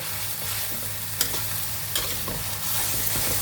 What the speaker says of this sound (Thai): สุดท้ายนี่ไฟต้องแรงหน่อยนะคะสุดท้ายนะคะ ผัดให้แห้งเลย